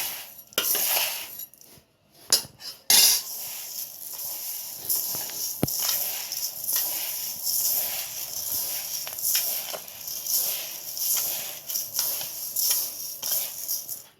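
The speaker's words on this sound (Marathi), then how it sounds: "आता आपण हे दळण मिक्स करूया" Dry ground grains, wheat and other grains for thalipeeth bhajani flour, are stirred and tossed together in a vessel, giving rustling, hissing sweeps with scattered small clinks, closely heard and unsteady in loudness, with brief quiet gaps near the start.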